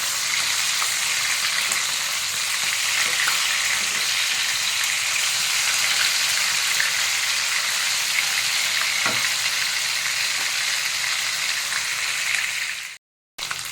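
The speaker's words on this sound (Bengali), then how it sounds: "উল্টে পাল্টে মাছগুলোকে ভালো করে ভেজে নিতে হবে।" Stingray fish pieces fry in hot oil in a pan, a continuous crackling sizzle with occasional sharper pops, close and steady, with no talking.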